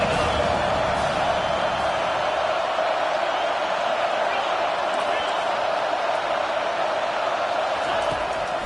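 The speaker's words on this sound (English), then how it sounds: "This crowd rising up, sensing that its defense needs some help." A football stadium crowd rises and cheers in a steady, dense roar that holds throughout, with a commentator's voice faint beneath it.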